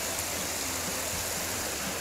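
Stream water rushes near a waterfall in Jacareí, Brazil, as a loud, dense, continuous roar of flowing water with no pauses.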